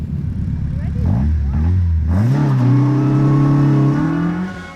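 A car revs and accelerates hard off a flying lap start at an autotest, its engine note climbing in pitch through the gears, close and loud with a brief passing voice.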